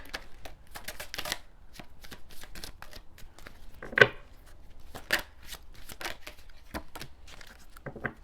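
Oracle cards are shuffled by hand in quick, crisp riffling bursts and taps, close and fairly quiet, with one sharper snap partway through.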